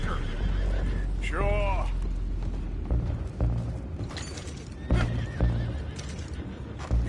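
Horses in Red Dead Redemption 2 whinny loudly with a rising-and-falling call, then hooves clop and stamp amid game action, with people talking over the scene.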